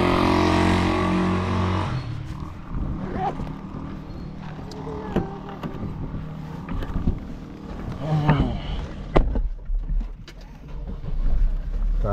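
Road traffic around a vehicle driving in Santa Ignacia, Tarlac, a steady rumble of engines and passing cars with clattering knocks, with people chatting inside over the noise.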